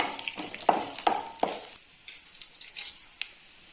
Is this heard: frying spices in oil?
yes